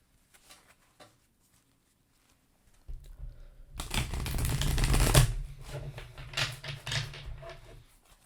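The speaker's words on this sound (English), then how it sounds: "So let's go ahead and shuffle number 1." Tarot cards are shuffled close by after a quiet start with a couple of soft taps, a dense riffling burst that rises to a peak and trails off into scattered card flicks.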